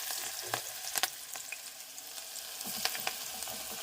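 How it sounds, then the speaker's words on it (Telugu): Onions and green chillies frying in hot oil for a chicken curry, a soft continuous sizzle with a few sharp spatula clinks and stirring scrapes nearby, no talk. "ఆయిల్ వేసాను, హీట్ అయింది. ఉల్లిపాయలు వేస్తున్నాను"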